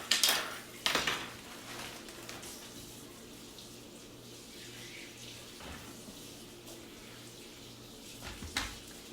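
A big pan is shifted across a kitchen counter, with a burst of metallic clattering from pans and utensils at the start, then quiet room tone and another brief clink near the end.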